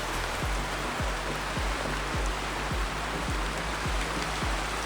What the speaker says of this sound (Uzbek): Yomg'ir zo'r yog'adi, toza havo.